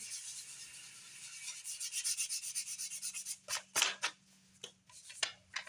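Sandpaper rubs over spilled lacquer on a guitar body, a faint, close scratching that starts as steady strokes and breaks into short uneven swipes, with a low hum underneath.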